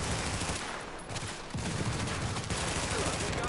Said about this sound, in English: He's literally shooting a shotgun